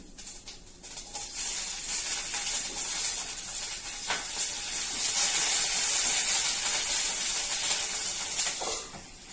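Green chillies frying in hot oil with urad dal and chana dal for a carrot chutney tempering, giving a steady loud sizzle and hiss with faint stirring clicks, no voices.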